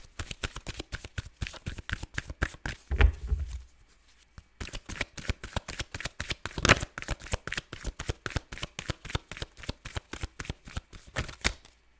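Tarot cards being shuffled by hand in a steady, rapid rhythm of crisp riffling slaps, close and clear, with a brief pause and a soft thump partway through before the shuffling resumes.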